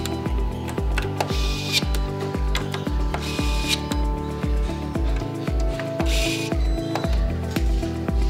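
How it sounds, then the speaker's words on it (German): MicroTorque electric screwdrivers on an assembly line, producing a steady rhythm of close, sharp mechanical clicks and brief whirring drive bursts about every half second, with occasional higher whines, loud and continuous. "Ich finde den MicroTorque-Schrauber toll, weil einfach keine einzige Schraube mehr durchdreht."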